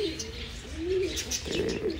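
A homing pigeon, back home after a village pigeon-flying competition, gives soft, low cooing calls close by, with faint background chirps and ambient noise.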